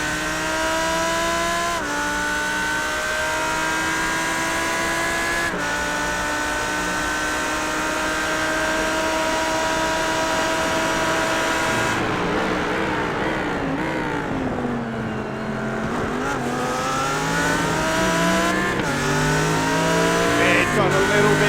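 A GT3 race car in a racing game lapping Red Bull Ring, its engine howling steadily, rising through gears with brief shift breaks and a dip and climb in pitch through a corner, with faint background talk.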